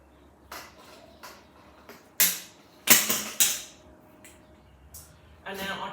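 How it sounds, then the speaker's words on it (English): A pipe cutter cuts through a plastic hoop pipe, giving scattered sharp clicks and cracking snaps, several bunched near the middle, close and fairly quiet. "And all I do is I simply cut this in the middle."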